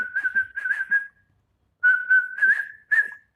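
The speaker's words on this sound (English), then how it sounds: "Does this count as whistling?" A person whistles a wavering, breathy tune in two phrases separated by a short pause, close and clear with no other sound.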